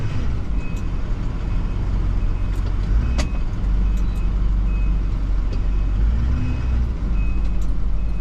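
Cars rush past a stopped snow plow truck during winter storm cleanup, a continuous loud road and engine rumble close by with brief sharp clicks and knocks mixed in.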